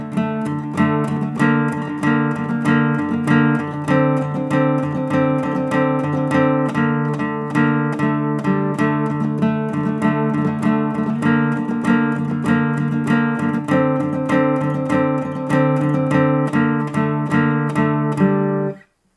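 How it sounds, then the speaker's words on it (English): Acoustic guitar riff in steady triplets, fretted notes on the third string ringing against the open fourth string, played loud and close and repeated continuously without talk. "you're going to play a little riff that's going to go in triplets"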